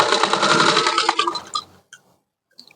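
A sewing machine runs steadily for about a second and a half while stitching the folded half-inch hem of a frock sleeve, then stops, leaving a few faint clicks and handling sounds.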